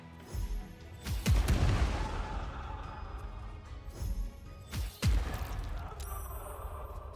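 Gunshots in a Baldur's Gate 3 battle: two sharp booming shots about four seconds apart, each followed by a fading rumble over a low, murky game ambience.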